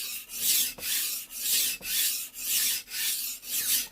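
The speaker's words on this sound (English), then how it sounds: "running the knife up and down the stone" A knife is drawn up and down a Japanese whetstone in steady, rhythmic strokes, about seven close, crisp, gritty rasps with brief pauses between them and no talking.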